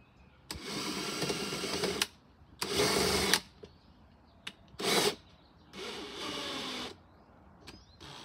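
Power drill fitted with a nut driver adapter drives a bracket bolt during spring garden work, several loud whirring bursts of one to two seconds each with short pauses and brief blips between.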